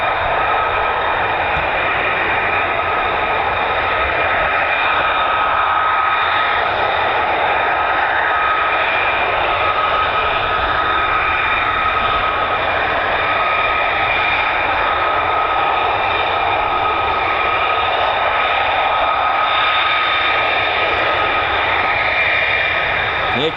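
Steady, loud jet roar of F-15 and F-35 fighter jets at RAF Lakenheath, a continuous broadband engine rumble with a faint whine holding throughout, with no break or fade.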